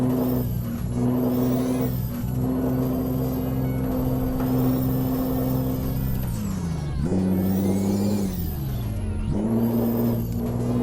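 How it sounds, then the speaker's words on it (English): Peterbilt 389 truck engine in Euro Truck Simulator 2, a steady loud mid-pitched drone that holds a constant pitch, then dips and rises twice as gears shift, running alone without talk throughout. "it's a weird engine sound"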